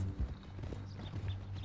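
Horse hooves clip-clop at a steady walking pace in the Red Dead Redemption 2 video game, close and moderately loud over a low rumbling background.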